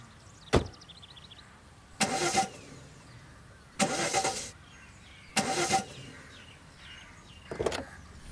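A broken-down car's engine cranking again and again without catching: a sharp click followed by four bursts of starter grinding, each about half a second long and separated by quiet pauses, heard close and without any talk.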